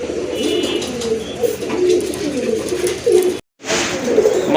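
A pair of pigeons kept for sale coo in low, throaty, repeated calls close by, steady over a light background hiss, with a brief cut near the end.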